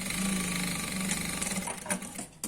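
A sewing machine running a straight seam on ankle-length pant fabric, a continuous close mechanical whir and hum that holds steady throughout.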